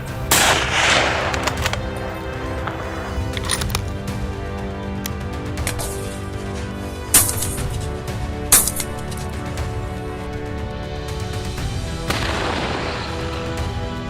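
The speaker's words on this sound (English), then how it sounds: "I fired instinctively." Sharp rifle shots crack out during a wild boar hunt with dogs, a few loud isolated bangs standing out over a busy outdoor background with no talking.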